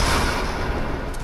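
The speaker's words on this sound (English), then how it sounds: "Why are you hip firing?" Hip-fired weapon in the Fortnite video game, a dense burst of loud, close gunfire filling the whole moment with no pause and no speech.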